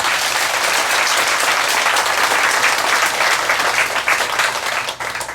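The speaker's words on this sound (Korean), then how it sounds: "박수 부탁드립니다." An audience at a Buddhist temple anniversary dharma service applauds loudly and continuously, many hands clapping in a thick, steady roar that tapers slightly near the end.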